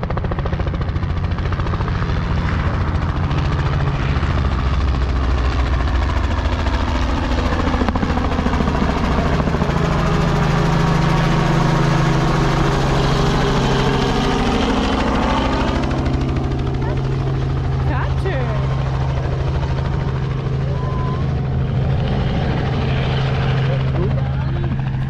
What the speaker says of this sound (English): Here it comes. Look at the copter.